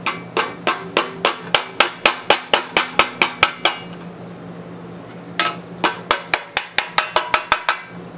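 Hammer blows strike bent metal pieces held against a large vise while restoring a 1940s Harley Servicar utility box. A rapid, loud, ringing series of metallic hits runs in two bursts separated by a short pause, with no talk.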